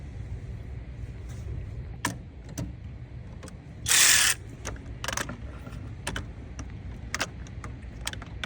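Ratchet work on thermostat housing bolts of a 2014 Mercedes C250 in the engine bay: scattered metallic clicks and taps, with one short loud burst of rapid ratcheting midway, close and otherwise quiet.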